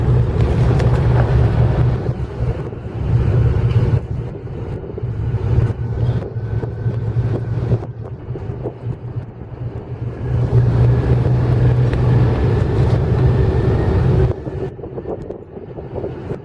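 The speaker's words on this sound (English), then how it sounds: "Remember, the wind is pushing us." Steady wind buffets the microphone while a boat is maneuvered into a dock at Georgetown, South Carolina, a continuous low roar with gusty surges and a lull in the middle, rising again before fading.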